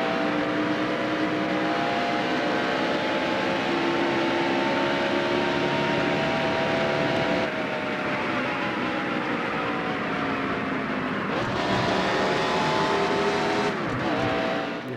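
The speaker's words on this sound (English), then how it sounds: "as soon as I get down to third gear, that's when I gas it back up on the throttle" A NASCAR stock car engine in NASCAR Dirt to Daytona at Rockingham, revving hard on the throttle through the gears, a loud, continuous tonal roar that rises and dips in pitch across the run.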